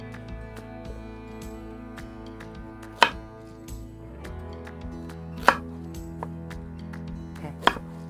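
A knife chops the ends off vegetables on a cutting board while a pork roast dinner is prepared, giving a few sharp knocks spaced through a steady low hum of the kitchen.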